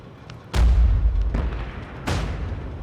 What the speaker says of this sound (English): let's go detonate the mountain